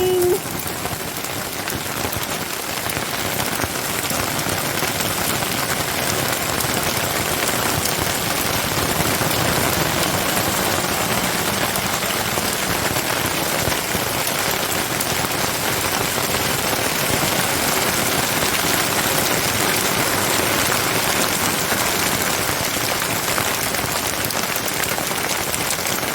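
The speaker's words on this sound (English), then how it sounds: "So it rained yesterday, it snowed all night, and it's hailing now." Hail falls hard in a sudden storm, a dense, loud, continuous rattle of stones pelting surfaces that keeps going unbroken for the whole span.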